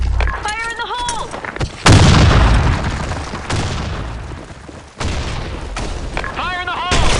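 Grenade explosions in the shooter game BlackShot, heard as two or three loud, heavy booms with long rumbling tails. A voice is also heard in the clip.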